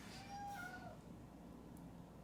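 A house cat lets out one drawn-out meow, fairly close, over a constant low background noise; no one speaks.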